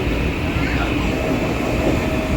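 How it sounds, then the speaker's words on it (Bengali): A train pulls away from a station, a loud, close, continuous rumble and clatter of wheels and carriages. "চলে যাচ্ছে দেখ দেখ ট্রেনটা চলে যাচ্ছে"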